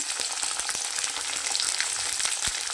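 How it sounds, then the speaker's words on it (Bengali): Green peas dropped into a hot kadai with frying tomato and potato for a matar dal curry, a constant close sizzle broken by sharp stirring scrapes and knocks, with no voices. "দিয়ে দিচ্ছি কড়াইশুঁটি।"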